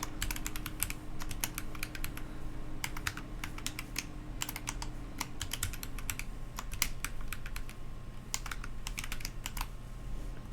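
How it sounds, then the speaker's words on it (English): Steady clicking of keys on a computer keyboard as a test passphrase is typed, bursts of quick keystrokes with short pauses over a low background hum, no talking. "So I'm just going to go ahead and make a test passphrase."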